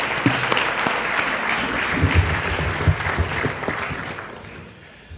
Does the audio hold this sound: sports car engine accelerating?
no